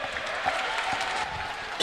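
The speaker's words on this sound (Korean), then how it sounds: "점수차가 많이 벌어지다 보니까 홈팬들은 약간 환호가 줄어들었어요" Home fans at a Korean professional basketball game between Orion and KT in the fourth quarter produce a muted, steady crowd murmur with scattered clapping, fairly subdued and continuous in the arena.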